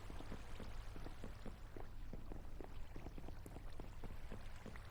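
Running water spreading through a Minecraft redstone farm in a video game, a steady dense splashing wash with a low hum underneath, continuous and even throughout.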